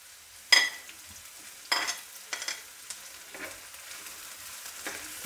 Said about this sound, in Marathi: गुलाबी होईपर्यंत थोडंसं फ्राय करून घ्यायचं आहे